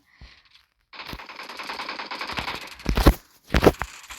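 Automatic gunfire in the mobile battle game PUBG Mobile, a sustained rapid burst followed by two louder, heavier volleys, close and loud with no voices over it.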